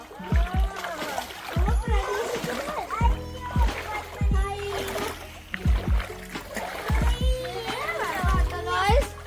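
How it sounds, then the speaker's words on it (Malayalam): Feet stepping and splashing through rainwater pooled on steps, repeated wet slaps in an uneven rhythm, close by, mixed with children's voices chattering throughout. "വെള്ളത്തിൽ ചവിട്ടാം."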